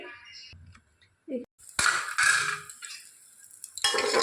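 A pressure cooker on a stove is handled with metallic clinks and clatters of metal and utensils, scattered bursts broken by quiet gaps, and a voice speaks briefly among them.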